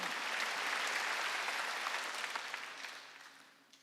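A congregation claps during a Wednesday church service, a full sustained burst of applause from many hands that holds steady, then gradually tapers off toward the end.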